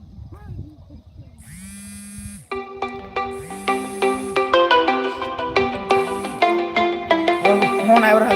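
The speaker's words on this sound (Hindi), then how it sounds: "फोन आबि रहल छै," A phone ringtone sounds for an incoming call during a live chat stream: a repeating electronic melody of bright chiming notes that grows steadily louder over several seconds, playing on its own with no talk over it.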